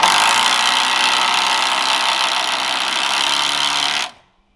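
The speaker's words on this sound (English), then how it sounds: "Ryobi version of what Lance is using, the Milwaukee. So maybe It's an impact driver." Ryobi impact driver driving screws into deck boards on a back deck, a loud continuous buzzing, rasping run lasting about four seconds before cutting off abruptly, close and alone.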